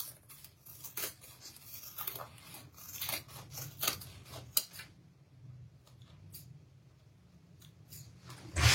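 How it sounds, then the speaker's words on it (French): Sharp scissors snip away excess printed fabric on a sewn zippered bag, a run of crisp close cuts in uneven rhythm that thin out into quieter handling. "je vais venir couper l'excédent de tissu imprimé ici"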